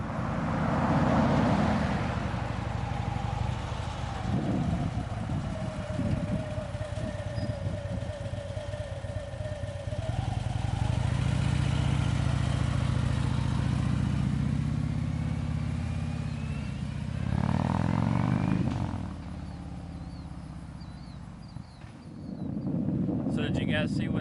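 A motorcycle ridden on the street and turning right at an intersection, steady engine drone with heavy wind buffeting on the microphone, revs rising and easing as the rider pulls away from a stop, with talk over it.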